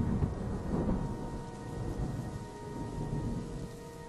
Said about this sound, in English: Thunder shook the thousands of chairs lined up in neat rows as the stone walls held force against the gale outside.